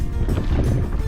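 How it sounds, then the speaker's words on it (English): Wind blows strongly across the microphone while paddling a small boat on a windy day, a brief, dense, low rumbling gust with no talk. "There's the wind."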